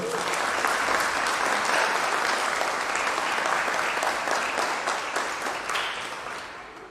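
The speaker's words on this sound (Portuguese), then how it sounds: "vamos dar um aplauso a Jesus" A congregation at a religious gathering applauds loudly with sustained clapping that holds steady for several seconds and then begins to fade.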